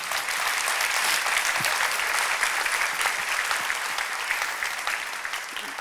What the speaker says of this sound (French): Vous avez applaudi, c'est à vous que vous avez applaudi